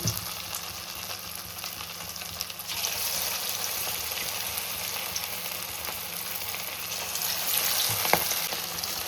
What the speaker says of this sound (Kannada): ಎಣ್ಣೆಯಲ್ಲಿ ನೀಟಾಗಿ ಬೇಯ್ತಿದೆ.